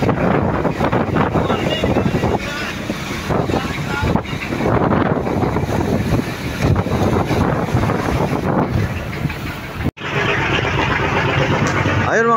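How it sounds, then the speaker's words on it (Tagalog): Strong wind roars and buffets the microphone aboard a service boat on the open sea in rough, rising waves, loud and continuous with gusts, while people talk beneath it. "sa sobrang lakas ng hangin"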